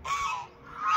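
Ducks honking loudly up close in two drawn-out, nasal calls, one at the start and another rising at the end, with no talking.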